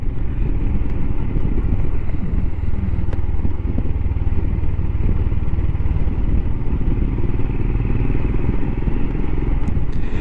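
A Royal Enfield Himalayan motorcycle engine rumbles steadily and loudly while riding on a hot evening, with constant wind buffeting the microphone and no talking.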